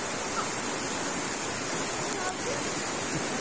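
Steady broadband rush of a river flowing near Mount Samat in Bataan, a constant close water roar filling the whole stretch with no breaks.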